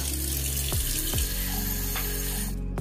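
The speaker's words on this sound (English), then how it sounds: "I'm going to add in water and then blend it." Water pours from a tap or jug into a blender jar holding peeled onion and a habanero pepper, a steady close splashing and trickling with a few gurgling sweeps, heard alone without any voices.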